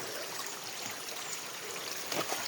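Spring water gushes steadily from its natural source, a broad continuous rushing and trickling flow heard up close, with a brief splashier surge near the end.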